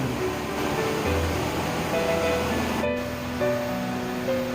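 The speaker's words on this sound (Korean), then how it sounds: "월음령과 백년사에서 흘러온 물이 합류하면서 쏟아내는 폭포수가 담을 이루는 곳입니다" Water plunges into a pool in the Muju Gucheondong valley, making a steady, full rushing roar close by throughout, with faint tonal hums layered over the torrent.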